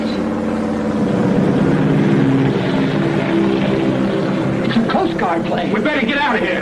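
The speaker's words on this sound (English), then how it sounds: "It's another plane." A propeller airplane engine drones loudly and steadily overhead, with voices calling out over the roar.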